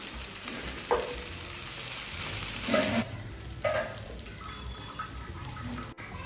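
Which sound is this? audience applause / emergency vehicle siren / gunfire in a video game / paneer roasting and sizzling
paneer roasting and sizzling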